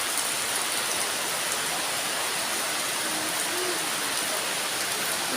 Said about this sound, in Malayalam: ചെറിയ വീഡിയോ നമ്മളെ വീട്ടിലെ മഴ കാണിക്കാനായിരുന്നു